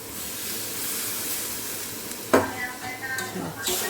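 A pan of vegetable curry of figs and potatoes hisses and sizzles steadily, then water is poured in and sets off a sudden louder burst of spitting and crackling that settles into uneven bubbling sizzle.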